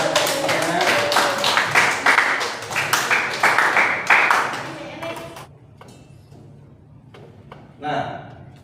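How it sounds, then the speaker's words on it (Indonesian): Classmates applaud in a classroom: a burst of mixed, overlapping hand claps runs for about five seconds, then thins out to a few scattered claps and voices. "kasih tepuk tangan dulu buat teman-teman"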